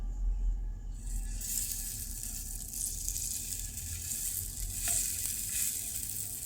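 Green cauliflower pakoras hit hot soybean oil in a pan, setting off a bright, steady sizzle that swells after a quiet start and continues evenly, with a few faint clinks and no talk.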